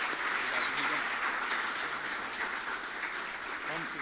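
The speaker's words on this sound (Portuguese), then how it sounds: "Se pode, aplaude mais uma vez bem forte." Church congregation applauding loudly for a preacher, a dense, steady wash of clapping throughout.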